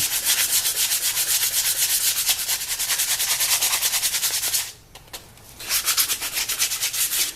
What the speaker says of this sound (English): So I'm just going to start sanding her up.